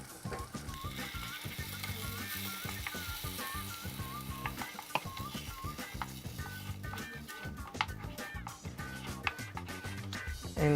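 Garlic, habanero pepper, onion and tomato mixture sizzling and frying in a pan, a steady crackle with stirring scrapes and occasional utensil clinks throughout.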